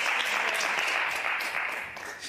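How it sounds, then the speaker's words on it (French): Steady applause from a group of students in a Star Academy 2025 lesson, many hands clapping at moderate distance in an even, continuous wash that fades slightly toward the end. "Est-ce qu'on peut l'applaudir, s'il vous plaît?"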